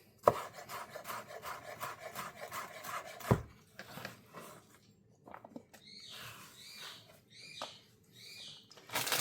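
A knife chops fresh vegetables, such as mini corn, on a board as parrot food. Quick rhythmic strokes come first, close and fairly loud, and then bright parrot chirps and squawks sound over softer handling noises.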